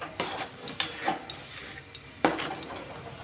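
Spice paste seasoned with salt fries in a pan for pea kachori, with a spatula scraping and clinking against the metal in several sharp, irregular strokes over a faint sizzle.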